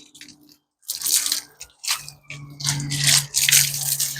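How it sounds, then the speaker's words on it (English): A garden hose pipe rinses down a greenhouse, giving irregular bursts of splashing, spattering water against the panels with short pauses between sprays. "Then again with your hose pipe, just rinse it off."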